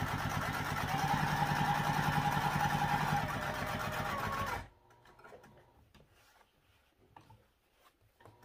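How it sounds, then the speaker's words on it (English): Sewing machine running steadily while stitching a backpack seam with a quarter-inch allowance, a loud continuous whir for several seconds that stops abruptly, leaving faint handling noises and quiet rustling afterward. "I'll go in a little bit and backstitch to make that seam strong."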